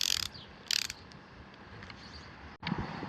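Tekton extra long flex head ratcheting box end wrench clicking as it ratchets while tightening, with short bursts of close, crisp pawl clicks separated by pauses.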